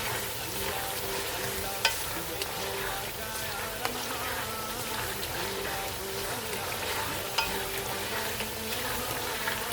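Turmeric is stirred into vegetable pulao in a pan over a low, even frying hiss, with faint scraping and a few light clicks of the spoon against the pan.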